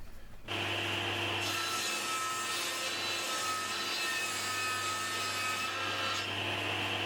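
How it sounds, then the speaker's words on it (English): Paste wax being wiped and buffed onto a cast iron surface, a steady continuous rubbing hiss with a low hum underneath, close and unbroken for several seconds. "Wipe on, buff off."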